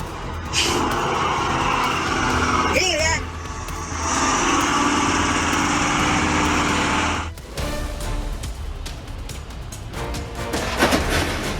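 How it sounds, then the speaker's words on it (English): A Caterpillar heavy machine rumbles in a rock quarry, its deep, steady engine drone swelling and dropping, with clanks and a brief break partway through. "The deep rumble of its engine echoing off the rock walls, each bucket drop making the ground tremble beneath your feet"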